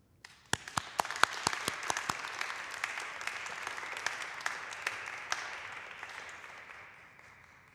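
An audience at an evening poetry reading applauds to welcome poet Dawn Martin, starting with a few sharp individual claps, then swelling into steady applause from a small crowd before gradually fading out.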